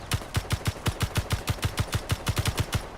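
Rapid automatic gunfire in a space video game, a fast steady stream of about twenty punchy shots in three seconds, loud and close, with no talking.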